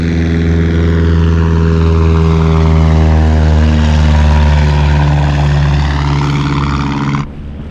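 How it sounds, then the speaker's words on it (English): A propeller airplane passes over a beach at Lake Tahoe, its steady droning engine loud and close, the harmonic pitch slowly falling as it goes by before cutting off abruptly near the end. "And look at this plane."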